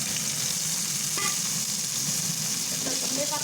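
Ground coriander leaf paste frying in hot oil in a wok, a steady close sizzle with a few light stirring scrapes, no voices over it.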